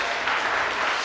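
A church congregation breaks into broad, continuous applause, a brief even wash of many clapping hands at moderate level.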